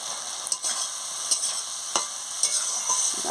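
Rohu fish curry masala being sautéed with salt in a pan, a steady hiss of frying with a few soft scrapes of the spoon spaced about every half second, close and alone.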